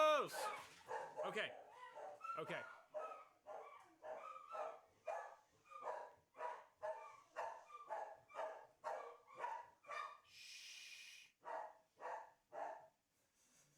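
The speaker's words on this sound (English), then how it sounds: "Hey, the dogs are excited." Excited dogs bark in a long run of rapid, regular yaps with a few whimpers, fairly close and steady; a voice speaks briefly at the start.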